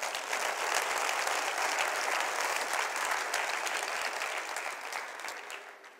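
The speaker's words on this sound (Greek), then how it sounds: "Χειροκρότημα." A dense, steady wash of audience applause fills a talk hall, many hands clapping together at an even loudness throughout before easing slightly near the end.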